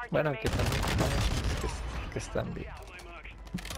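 Rapid bursts of 9mm SMG fire in a multiplayer shooter match, crackling shots stacked under excited player voice chat, dense at first and then thinning to scattered cracks.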